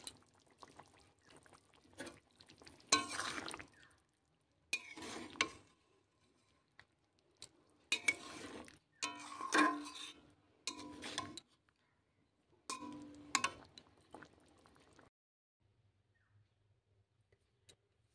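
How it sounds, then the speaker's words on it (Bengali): Cuttlefish curry poured from a cooking pot into a bowl, with several bursts of liquid splashing and scraping spread over the clip, separated by short pauses and ending in near silence. "এবারে এই মাছের ঝোলটা আমি একটা বাটিতে ঢেলে নেব"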